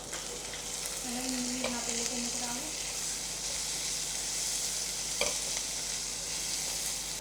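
Tempering spices and onion fry in oil for a raw banana and mango curry, producing an even, close hiss with a short tonal squeak early on and a single sharp click later.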